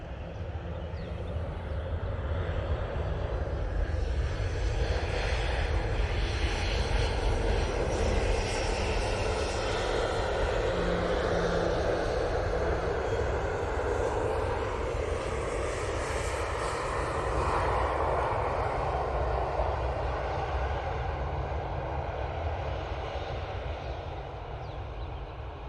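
A Ryanair jet rolling on the runway at Manchester Airport before vacating onto a taxiway, a loud sustained engine roar that swells and slowly fades away over about twenty-five seconds, with no voices.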